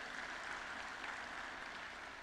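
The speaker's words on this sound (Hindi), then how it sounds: "आप सभी की तालियों की गड़गड़ाहट हो जाए।" An audience claps steadily at the 6th National Water Awards ceremony in India, a soft, even roll of applause heard from a distance without any talking.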